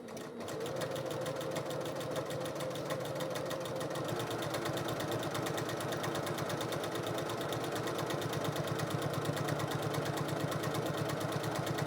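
A sewing machine stitches zipper tabs in one continuous run, its fast, even mechanical whir close and steady throughout, with no talking.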